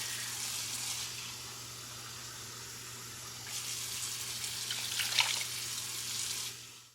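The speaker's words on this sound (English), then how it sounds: "I added a total of 10 cups of water." Water poured into a soup pot for Puerto Rican ham and noodle soup, a soft splashing rush that swells and fades in two waves, fairly quiet and close.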